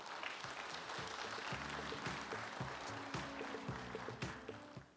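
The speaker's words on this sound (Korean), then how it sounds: "큰 박수로 환영해 주시기 바랍니다." An audience at the 2024 forum on former mining regions applauds to welcome a lawmaker to the stage, giving steady, sustained clapping throughout over faint background music.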